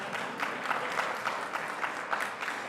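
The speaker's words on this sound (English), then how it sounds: "You can clap for that." Conference audience at a Garner chamber entrepreneurship event clapping in a moderate, steady patter with slight swells, a few individual claps standing out.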